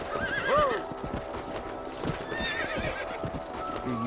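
A horse in the video game Red Dead Redemption clip-clops steadily along, with a loud close whinny early on and a second fainter neigh midway, under a soft ambient background.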